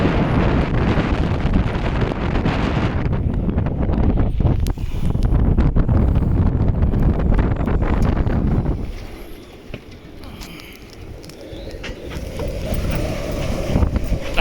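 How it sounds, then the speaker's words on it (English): Strong gusty wind buffets the microphone out on open water from a rowing boat, a loud roaring rush that surges and then drops away into a calmer lull before building again. "That's a gust. We heeled right over then."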